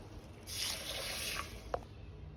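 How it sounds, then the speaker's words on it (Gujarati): Soaked lentils being rinsed in water for dal vada, with soft sloshing and trickling for about a second, then a single faint drip or knock, all at low level with no talk. "હવે આપણે તેને 3-4 વાર વોશ કરી દઈશું."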